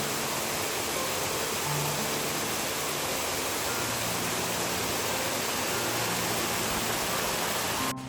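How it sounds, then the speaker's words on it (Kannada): A large waterfall roars as a steady, broadband rush of falling water, constant and loud from start to finish. "ಈ ಫಾಲ್ಸ್ ತುಂಬ ಚೆನ್ನಾಗಿದೆ ನೋಡಿ."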